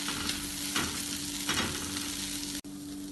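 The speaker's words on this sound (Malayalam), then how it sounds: "ഇതിനി ഇളക്കി വഴറ്റാം." Chilli powder being stirred and sautéed in oil in a pan for bitter gourd curry, a steady close sizzle with soft spoon scrapes throughout, alone without talk.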